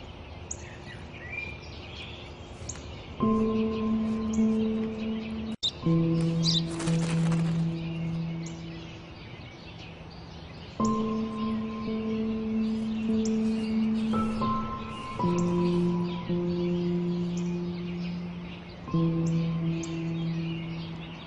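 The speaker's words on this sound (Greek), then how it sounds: "Τόσες φορές σου είπα, είναι ένα σπουργίτη!" Chirping sparrow calls with tonal notes repeat in bursts, fairly close and clear, with a sharp click partway through and no talking.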